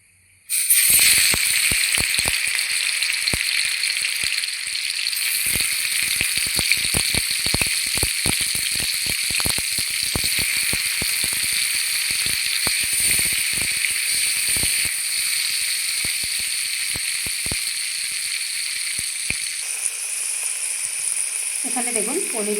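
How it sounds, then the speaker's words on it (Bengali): Paneer pieces sizzle steadily in hot oil in a pan, a dense continuous frying hiss with scattered crackles and pops lasting throughout, close and fairly loud, with no talking over it. "এখন আমি পনিরগুলো ভেজে নেব"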